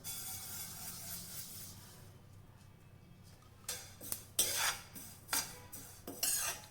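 Half a cup of sesame seeds dry-roasting in a pan for a spice powder, stirred with a utensil: a soft hiss at first, then several sharp, close scraping strokes against the metal in the second half, with no talking.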